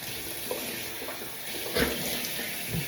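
Water running from a bathroom tap while rinsing after a shave, a steady close hiss with faint splashes, no talking.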